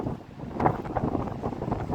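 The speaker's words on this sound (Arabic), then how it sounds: "جو كئيب، يعني بحر هائج، رياح قوية شرقية." Strong easterly wind and a rough, churning sea at Fnideq on the coast, a steady broadband roar with gusty swells and buffeting against the microphone, continuous throughout with no voices.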